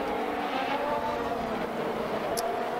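A 1050 hp Formula 1 car in the F1 2021 game with the ACFL mod: a steady, loud high-revving engine drone with layered harmonic whine, continuous throughout, with faint speech underneath.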